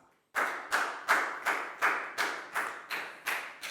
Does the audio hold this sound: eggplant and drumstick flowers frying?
no